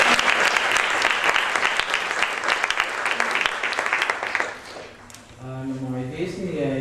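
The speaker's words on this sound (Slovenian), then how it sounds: "En aplavz, prosim." Dense, steady applause from the audience at a professional meeting about a children's and youth film, going for about five seconds before dropping away as a voice begins talking.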